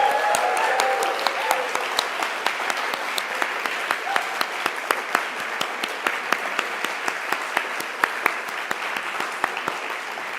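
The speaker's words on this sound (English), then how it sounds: "I would love to give Rachel one more warm welcome round of applause." An audience claps warmly in a hall, a steady sustained round of applause with dense, even hand claps continuing for about ten seconds without pause.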